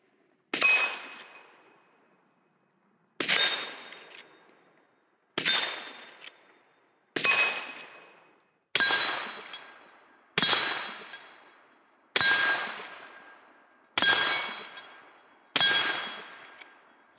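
A lever-action rifle with a scope at low magnification fires nine sharp, loud shots at steel targets, spaced about two seconds apart, each ending in a bright ringing decay. There is no talk.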